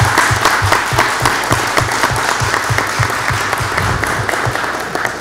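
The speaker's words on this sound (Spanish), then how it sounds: "Una felicitación en ese sentido, un aplauso." An audience at a citizen security committee meeting claps for a major's promotion to commander, dense rhythmic applause that holds loud and steady throughout with crisp individual claps standing out close by.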